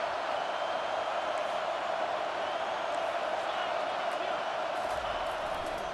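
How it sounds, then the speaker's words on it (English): A stadium crowd at a Kentucky Wildcats vs Ole Miss college football game roars for the defense during a red-zone stand, a steady, loud, sustained wall of cheering and noise with no break. "The crowd getting behind this defense as they try to get a stop in the red zone."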